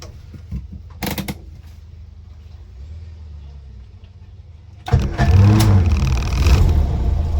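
A 1968 Morris Traveller's engine catches after a brief quiet stretch of clicks and handling, then settles into a loud, steady idle close by.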